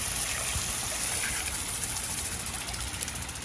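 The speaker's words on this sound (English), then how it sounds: "You're going to go ahead and run the water out of it" Water running through a Ryobi 1600 psi electric pressure washer hose, a steady hissing, gushing flow with sputtering air pockets, moderately loud and continuous.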